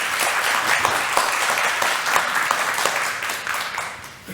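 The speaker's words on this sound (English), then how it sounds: "Warm round of applause for everyone" A comedy festival audience in Australia gives the seated comedian panel a warm round of applause. The clapping is dense and sustained, close and steady, and it tapers off slightly toward the end.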